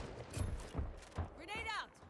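Gunfire in the sci-fi shooter game High Guard, with a few sharp separate shots spaced across the moment, mixed with other game effects and a voice talking.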